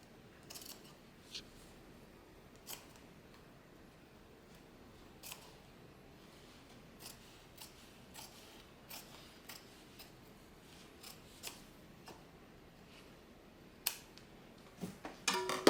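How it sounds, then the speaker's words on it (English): Scissors snip through fabric while a tote bag is being trimmed for sewing, giving quiet, scattered close-up cuts at irregular intervals over a faint room background, with a slightly louder cluster of snips near the end. "I'm just going to cut that back a little bit so that my edges match up"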